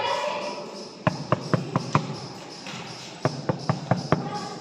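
Knuckles knock on a hollow wall at the Red Fort in Agra in two bursts of about five sharp, resonant raps each, close and distinct over a murmur of background noise.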